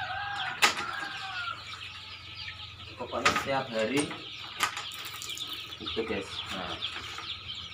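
Chickens cluck and squawk at a chicken farm holding around ninety to a hundred birds, with occasional wing flaps, while someone talks over them.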